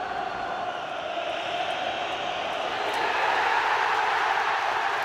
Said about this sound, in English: The biggest cheer that you will hear on Wearside all season